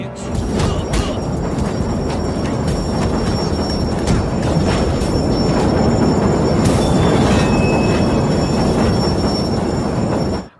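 A subway train in a Def Jam video game station rumbles loudly and continuously, wheels squealing with high metallic whines over the heavy roar.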